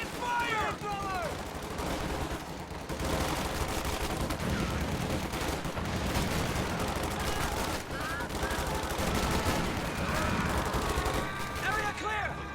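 Rapid bursts of gunfire and machine-gun fire in a World War II strategy video game battle, dense and continuous throughout, with pitched voices and game effects mixed in.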